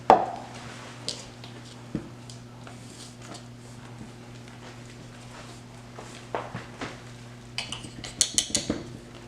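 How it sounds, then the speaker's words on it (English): Fritter batter ingredients are mixed together in a bowl, with scattered light clinks and taps of a utensil against the dish. The sounds come in a few sharp bursts that cluster toward the end, over a quiet background hum. "Blend it all together. And then start adding my wet ingredients."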